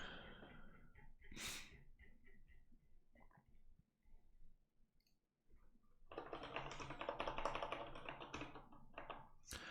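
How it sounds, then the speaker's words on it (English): Keys clatter on a Kinesis Advantage 2 ergonomic keyboard while someone writes Rust code, first in a few scattered taps and then in a dense, continuous burst of close typing. Faint breathing can be heard near the start. "I've been using a Kinesis Advantage 2 for the past 4-ish years, and I love it"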